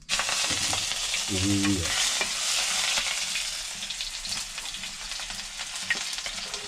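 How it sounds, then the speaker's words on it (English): Onion and potato sizzle in hot sunflower oil in a village kitchen in Nepal, a loud steady hiss and crackle with a brief stirring scrape, while a voice speaks a single word. "Oh yeah, look at that. Sizzling right away."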